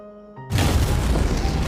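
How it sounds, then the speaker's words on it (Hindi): A loud explosive blast erupts after a brief quiet stretch with faint tones, then sustains as a broad rumbling roar to the end, with no talk over it. "इतना बढ़िया धमाका।"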